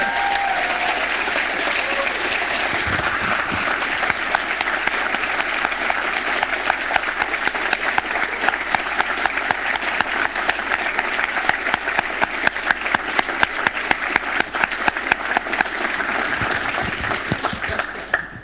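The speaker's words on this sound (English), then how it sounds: "let's all give Ilya a big round of applause." An audience at a programming contest event gives Ilya a sustained round of applause, dense clapping from a large crowd that holds steady for the whole stretch, loud and close.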